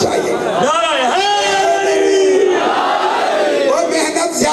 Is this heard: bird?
no